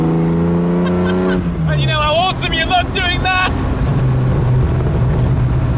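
Ferrari sports car engine with a 4.7 litre upgraded engine revving hard, its pitch sweeping up and down, then falling into overrun, heard loud and close while someone talks over part of it.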